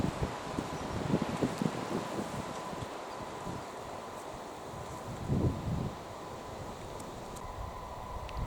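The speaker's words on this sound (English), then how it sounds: "On a windy day, listen to that wind." Wind blows outdoors through acacia trees, Acacia cardiophylla, a continuous breathy rush with rustling leaves and occasional louder gusts buffeting the microphone.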